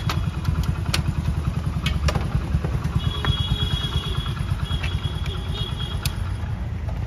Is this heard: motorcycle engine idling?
yes